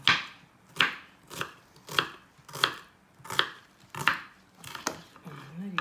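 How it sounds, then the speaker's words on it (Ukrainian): An onion being chopped with a knife on a board, about nine crisp, evenly spaced cuts close by, with a faint bit of background noise near the end. "Нарізаємо цибулю."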